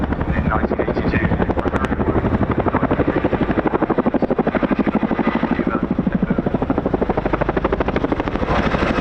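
Chinook twin-rotor helicopter flying at the RAF Cosford air show, a loud steady rapid rotor thump with deep droning engine noise throughout, close and continuous.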